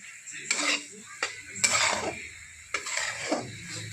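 Peanut powder being mixed into cooked dill greens in a pan: several distinct bursts of metal spoon scraping and clattering against the pan, separated by short quiet gaps, close and moderately loud.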